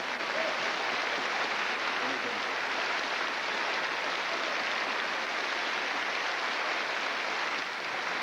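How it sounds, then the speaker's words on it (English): A large concert audience greets a zither player from Vienna with loud, sustained applause, a dense, even roar of many hands clapping continuously with no pause. "Give him an enormous applause."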